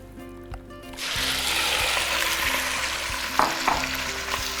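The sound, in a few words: pork browning in hot oil in a pot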